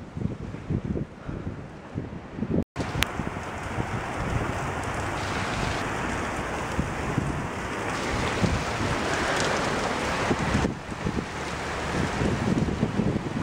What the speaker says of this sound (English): Too bad it's not raining like really heavy now.